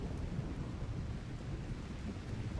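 Rain and thunder in the video game RimWorld form a steady, dense rumble and hiss throughout, fairly soft, with no distinct crack standing out.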